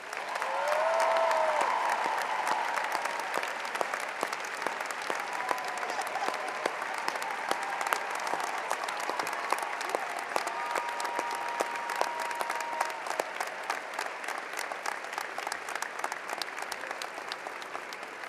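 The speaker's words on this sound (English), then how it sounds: "join me in a round of applause" Steady applause from a sizable crowd at a university commencement, continuous and moderately distant, holding at an even level throughout.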